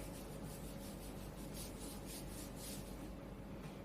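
Something is rubbed off a board in steady back-and-forth scrubbing strokes, a dry rasping sound that carries on continuously and close by with no talking.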